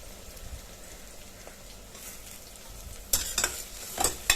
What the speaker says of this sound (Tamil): வெங்காயம் வதங்கும் போது 3 பச்சை மிளகாயும் சேர்த்துடலாம்.